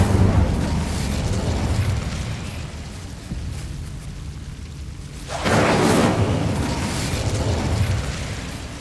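A fire spell cast in the Hogwarts Legacy video game bursts with a loud whooshing blast near the middle, over a steady rumbling game backdrop.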